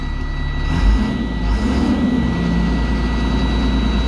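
A school bus engine idles with a failing turbocharger, a steady low rumble with a thin, constant high whine running through it and a brief surge in the engine note, close up with the engine fan running.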